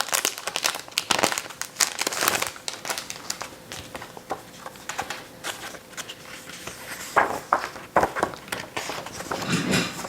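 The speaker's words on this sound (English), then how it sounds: "let's just unpackage everything" Packaging from an 8lotus subscription box crinkles and rustles as it is unpacked, in bursts of close, crisp crackling handled by hand with short pauses between.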